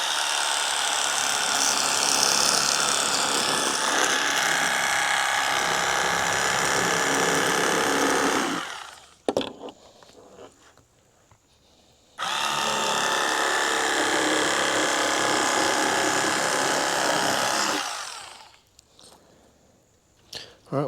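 WORKPRO electric fillet knife cutting catfish fillets, a close, buzzing motor whine with rasping cutting that runs for about nine seconds, stops briefly, then runs again for several more seconds.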